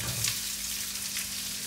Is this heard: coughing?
no